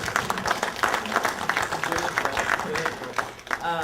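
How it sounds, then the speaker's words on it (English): An audience at a music seminar conference gives a dense round of applause that keeps up steadily, with a voice speaking faintly under the clapping. "Give me a round of applause"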